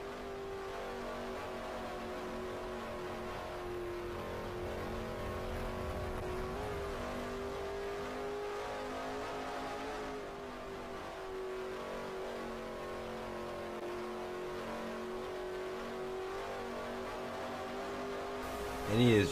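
Street stock race car engine heard from inside the car at Salem Speedway, a loud, steady sustained drone with rich harmonics that holds through the lap and swells briefly at the end.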